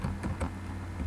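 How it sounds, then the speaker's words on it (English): Quick keystrokes on a computer keyboard while entering spreadsheet labels, a few soft, close taps in a short burst. "So if I would just type in quarter one"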